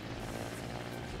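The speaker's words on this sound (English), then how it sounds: "This is a helicopter." A helicopter in the Trailmakers video game gives a steady, dense rotor drone and engine roar, loud and continuous with no talk over it.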